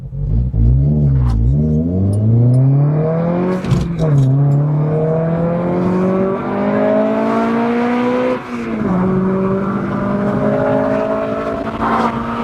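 A budget sports car accelerates hard from 0 to 60, its engine rising in pitch through each gear, with quick short shifts that briefly drop the revs before they climb again. The engine is loud and close throughout.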